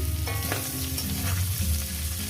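Onion and green chili frying together with small fried mourala fish in a pan, a loud, dense sizzle close up with a few quick stirring scrapes over a low hum.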